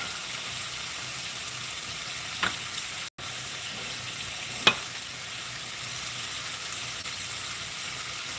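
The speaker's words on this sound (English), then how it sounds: "to get a nice sear on our lamb chop, guys. And I prefer to cook these in a cast iron skillet" Lamb chops searing in a cast iron skillet give a soft, even sizzle throughout, broken by a brief gap and a couple of faint clicks, with no speech.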